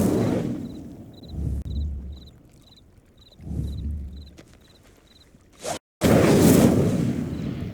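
In the video game Hogwarts Legacy, an Incendio fire spell is cast during a Merlin Trial. A sharp burst is followed by a loud, sustained whooshing roar of flames lasting a couple of seconds, after quieter stretches with faint rhythmic ticking.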